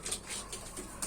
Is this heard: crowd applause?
no